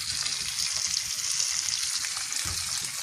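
Lamb ribs frying in a pan, a bright, continuous sizzle with fine crackling spatter close by, steady throughout with no talking.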